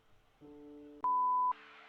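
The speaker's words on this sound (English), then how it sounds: "I left her a voicemail message at the beep" A single electronic voicemail beep, a steady clean tone lasting about half a second, sounds loud and close after a low hum of line tones, then a burst of hiss follows.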